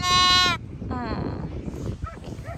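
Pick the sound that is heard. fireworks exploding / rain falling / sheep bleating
sheep bleating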